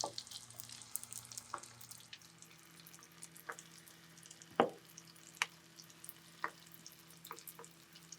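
Shrimp balls wrapped in spring roll shells deep frying in hot oil, a quiet, even bubbling hiss punctuated by several sharp pops and crackles at irregular intervals, heard alone without speech.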